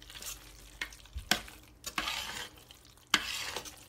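A roux with milk being stirred in a pan, with quiet soft scraping and a few sharper spoon knocks against the pan, close but faint and with no talk.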